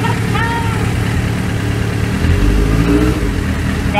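A Suzuki GSX750F four-cylinder motorcycle engine runs loud and close after starting, a steady rough idle with a rising rev near the middle and constant mechanical rumble throughout.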